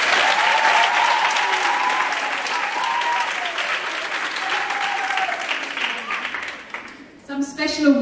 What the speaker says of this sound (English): Let's give these everybody a round of applause.